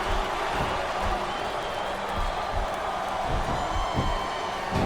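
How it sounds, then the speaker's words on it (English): Arena crowd noise from WWE SmackDown vs Raw 2007 on Xbox 360 during a Kurt Angle versus Triple H match, a steady roar of applause and cheering with a voice speaking over it. "Sure, I agree with what the crowd is chanting, JR, but I guess it's their right."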